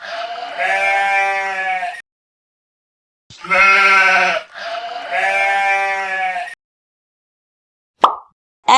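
A sheep bleats loudly and close by in three drawn-out, wavering calls separated by silent gaps, ending with a short percussive knock.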